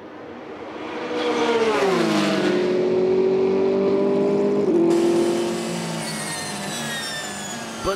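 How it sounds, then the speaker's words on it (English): Toyota and Porsche endurance race cars scream down the straight, one loud engine note climbing and holding high before dropping away, then a second car's whine passing at a distance; no speech. "the Toyota outpaced the Porsche down the straight"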